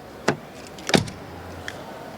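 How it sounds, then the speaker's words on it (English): A 2020 BMW X1 car door shuts with a solid thud, preceded by a lighter click and followed by a faint latch tick, in a quiet setting. "door closing sound"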